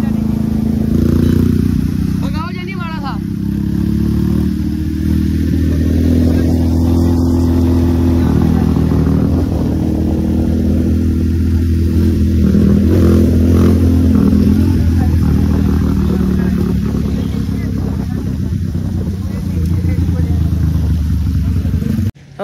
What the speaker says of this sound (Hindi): बाइक जो है ना मैं धक्का लगाया स्टार्ट हो गया